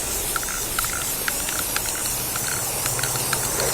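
Primer spray-painted from an aerosol can onto containers for a front porch: a steady, close hiss of spray with short bursts and brief pauses as the nozzle is pressed, continuous throughout with faint clicks.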